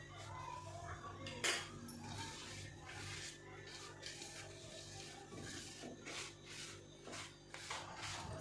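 Green chili pickle is stirred with salt in a bowl for Marathi-style mirchi lonche, making quiet scraping and rubbing strokes. Occasional sharper clinks of utensil on container come close and fairly soft.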